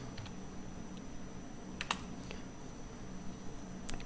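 Quick bursts of keystrokes on a computer keyboard as a form title is typed into Google Forms, a few scattered clicks and short clusters of taps over a low steady hum, with no talking.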